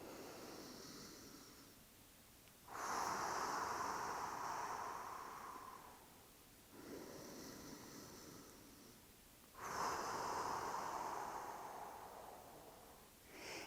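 Slow, deep breathing exercise during a workshop: long, airy inhalations and exhalations alternate in an unhurried cycle, soft and close with no voices.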